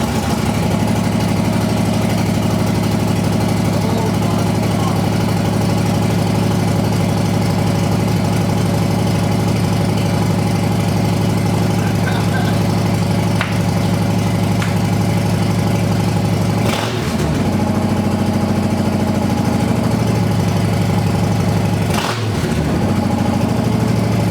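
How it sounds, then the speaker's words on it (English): A 2020 Harley-Davidson Low Rider S fitted with a Two Brothers 2-into-1 exhaust idles with a loud, steady, deep lumpy throb, broken by two short blips of the throttle late on. "That sounds like a Harley. Like even at idle now,"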